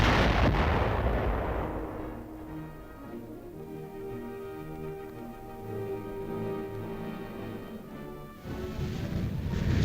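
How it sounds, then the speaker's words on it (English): A bomb detonated during a military training demonstration: a heavy explosion roars at the start and rumbles away, with a steady tonal drone underneath, and a second burst of blast noise at the end. "Finally, the bomb is detonated."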